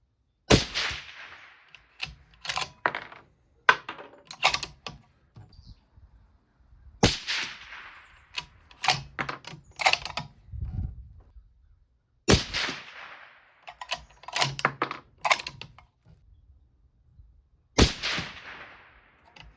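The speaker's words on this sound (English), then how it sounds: "We're intentionally shooting them up just a little high." 6.5 Creedmoor rifle firing 139-grain Lapua Scenar loads at an outdoor range, a series of sharp, loud cracks spaced a few seconds apart, some followed by quieter mechanical handling noises.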